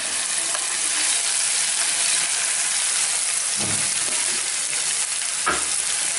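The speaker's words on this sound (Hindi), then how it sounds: "ये हमने इसमें जो है वो अदरक और लहसुन का पेस्ट जो है वो इसमें ऐड कर लिया।" Ginger-garlic paste fries with browned onions in a pan for aloo mogray sabzi, giving a steady close sizzle throughout with a couple of brief stirring scrapes and no voices.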